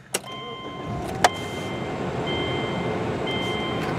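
A 2005 Subaru Outback all-wheel-drive wagon with high mileage starts with a brief crank and catch, then settles into a steady close idle with a faint chime in the background.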